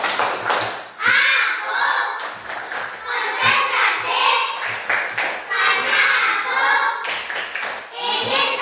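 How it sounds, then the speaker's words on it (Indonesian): Schoolchildren in a classroom clap together in a quick, structured concentration-clap rhythm, with short pauses between bursts and young voices chanting along between the claps. "Tepuk konsentrasi."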